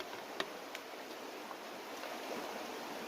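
Water pouring steadily into a gold prospecting classifier screen setup outdoors, a continuous soft rushing hiss throughout with a few small clicks and knocks, fairly quiet and without talk.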